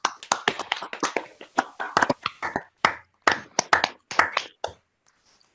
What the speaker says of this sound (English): That means you all turn on your microphones and clap.